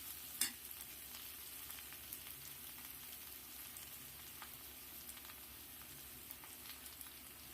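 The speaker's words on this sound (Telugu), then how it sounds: "పచ్చిమిర్చితో పాటు కరివేపాకు కూడా వేసుకున్నాం కరివేపాకు వేగుతుంది" Curry leaves and green chillies frying in a pan give a steady, fairly quiet crackling sizzle with small pops and a brief louder clatter near the start, no voices.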